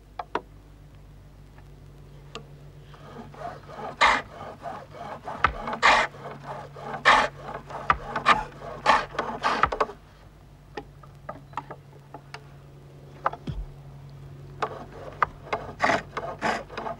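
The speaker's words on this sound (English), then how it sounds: "finally, a broad, flat-bladed chisel is used to produce a smooth finish" A broad, flat-bladed chisel smooths a wooden furniture piece, giving repeated scraping, rasping strokes in uneven rhythm, close and fairly loud over a low steady hum.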